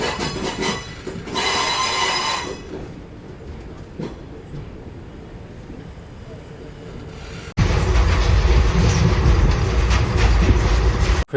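The Purulia-Tirunelveli SF Express pulls out of Villupuram Junction railway station, its wheels rumbling and clattering close by, with a brief squeal partway through and a louder rush of rolling noise toward the end, under intermittent talk.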